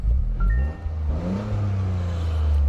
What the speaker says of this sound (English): I kind of like the little hum that comes with it.